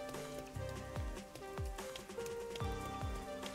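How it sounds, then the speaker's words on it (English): Steady rain pours in a video game scene, a continuous hiss of drops with repeated low thumps and tonal music beneath, with no talking. "The rain never ends."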